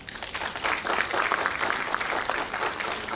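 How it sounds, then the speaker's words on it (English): Conference audience applauds after a speech, a steady wash of many hands clapping at moderate distance, sustained evenly for a few seconds. "can we give him a round of applause?"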